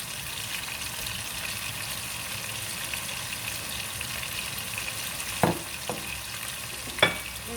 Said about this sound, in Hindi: तो देखिए अब इसमें हम अदरक लहसुन का पेस्ट डाल देंगे।